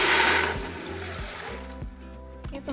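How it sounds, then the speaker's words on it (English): Eight cups of water pour over a pound of beans in an Instant Pot, a short burst of splashing at the start that fades as a low hum runs underneath. "So then we're going to cover them with 8 cups of water."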